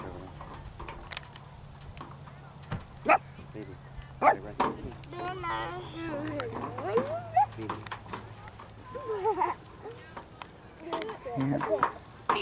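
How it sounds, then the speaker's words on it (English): A dog barks a few times in short bursts amid an indoor scene with people talking and other household noise. "What's he barking at?"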